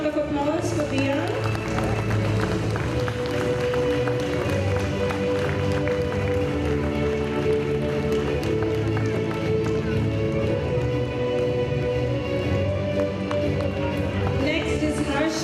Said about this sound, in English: A huge round of applause for Dian